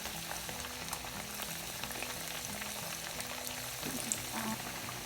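Sliced potatoes fry in hot oil with a faint, steady bubbling sizzle, heard quietly and continuously with small crackles throughout.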